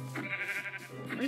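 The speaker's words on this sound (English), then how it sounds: "Three sheep just spawned over there." Sheep bleating in the Minecraft video game, a couple of short nasal bleats close by with a rising final cry, heard alone without talk.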